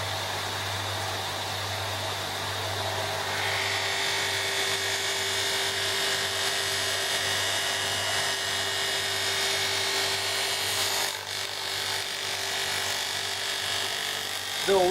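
A buffing wheel machine runs steadily while knife handles are finished with CA, a continuous whirring drone with a brief dip near the end and a voice talking over it.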